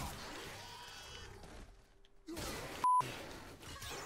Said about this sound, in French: tu vas encore devoir mettre un bip